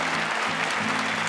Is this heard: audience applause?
yes